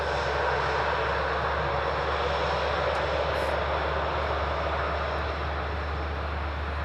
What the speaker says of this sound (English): Ryanair next to landing.